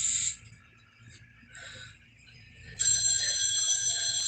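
A room telephone on a nearby table rings in a clear repeated bell pattern, a loud burst at the start, a quieter ring in the middle, then a sustained loud ring at the end.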